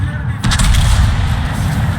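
A heavy naval gun salvo fires from a warship in World of Warships, a deep booming blast with rolling low rumble that sustains under a faint background of game sound.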